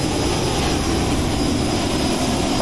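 Cessna Citation Mustang business jet climbing out after takeoff from Inverness, Scotland, in Microsoft Flight Simulator 2020: a loud, steady jet engine roar with a thin high whine, continuous and without talk.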